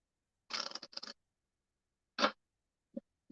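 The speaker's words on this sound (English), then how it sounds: "once more, because I can't stop shuffling" Cards are shuffled by hand in quiet short bursts: a riffling flutter, a pause, another quick riffle, and a couple of soft taps, close and crisp against silence.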